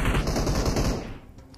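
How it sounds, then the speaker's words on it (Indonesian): Rapid automatic gunfire rattles in a video game, a dense burst of close, loud shots that tails off toward the end. "ada tembakan lagi loh"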